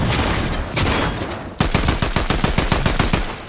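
Gunfire in an online shooter video game: a sustained burst of rapid automatic shots, then after a brief break a quicker, evenly spaced string of sharp cracks, loud and close with no speech over it.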